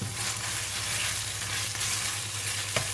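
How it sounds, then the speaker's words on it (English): Kaffir lime leaves stir frying in red curry paste, a steady close sizzle with a soft continuous crackle and a single sharper knock near the end. "Put in the kaffir lime leaves. Just stir fry until it releases a very nice fragrance."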